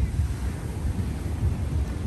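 Ocean waves on a Jamaican beach at Trelawny produce a steady low rumble of surf mixed with wind buffeting the microphone, continuous and fairly loud, with no distinct wave breaks.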